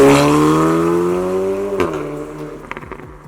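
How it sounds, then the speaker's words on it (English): Volkswagen Golf R Mk8 in race mode with its exhaust fully open, a loud close engine rev whose pitch climbs and then drops sharply, with crackles and pops on the overrun near the end. "and the exhaust opens up completely."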